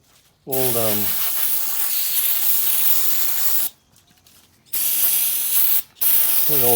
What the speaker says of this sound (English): I take brake cleaner, and I just spray